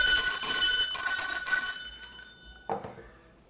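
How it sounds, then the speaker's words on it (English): A bell rings at a bicycle race in bright, rapid, repeated rings that stop abruptly. After a short pause, one more strike rings out and fades. "Ring the bell, Donis. Don't forget to ring the bell."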